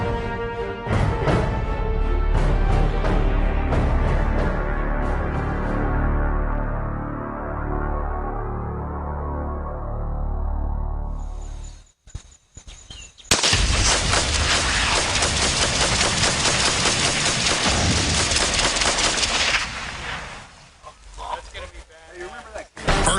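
A fully loaded propane tank placed inside a barrel explodes outdoors, a sustained loud roaring blast after a brief lull, following a long stretch of dense noise.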